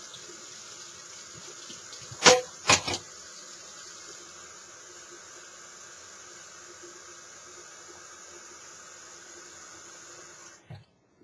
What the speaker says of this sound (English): We're going to put a little bit of water into our bowl.